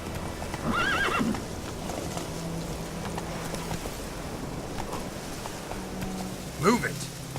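A horse in The Witcher 3 clip-clops along at a steady pace, with two clear neighs or whinnies, one near the start and one near the end, over a low ambient game backdrop.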